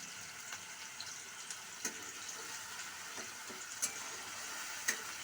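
Cumin seeds sizzle in hot oil with a faint, steady crackling hiss, broken by a few soft ticks and clicks of a utensil against the pan, close by with no voices.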